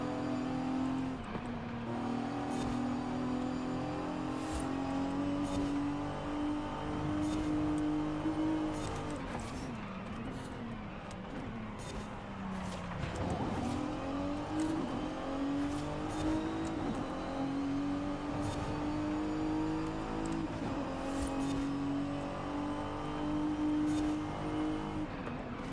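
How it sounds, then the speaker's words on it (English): High-pitched engine of a Lexus fitted with an LFA engine in Forza Horizon 5, a loud continuous drone that climbs and dips in pitch as the car revs and shifts, with no talk. "Is that Lexus running an LFA engine? Sounds high pitched."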